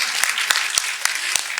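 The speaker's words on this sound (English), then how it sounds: "Let's give her a big round of applause" Audience at a community information session clapping together, a dense, steady patter of many hands with a few sharper claps standing out, brief and close.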